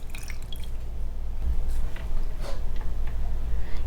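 A damp sponge is dipped into a container of water before water etching a bone-dry clay tile, giving faint soft drips and squishy liquid sounds over a low steady background hum.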